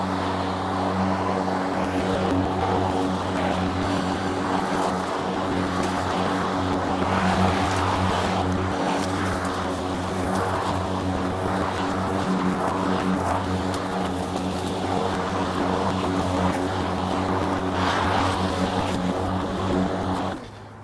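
An EGO Power+ electric lawn mower runs steadily, a continuous motor hum with a tonal whine that stays level and close throughout, with no talking heard.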